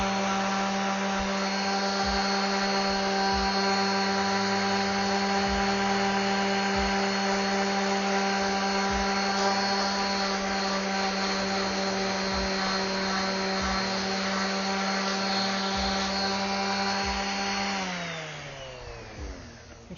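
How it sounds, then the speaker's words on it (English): An electric power sander works a piece of wood, a steady loud whine held for most of the stretch before it winds down near the end, with no talk. "Let me sand that all nice and flat."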